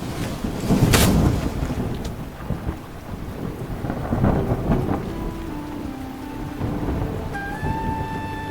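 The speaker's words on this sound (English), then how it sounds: "Rain bathes the forest and saturates the soil" Steady heavy rain pours over a forest, a dense hiss of drops with a loud thunder crack early on and rumbling underneath, while faint sustained musical tones rise near the end.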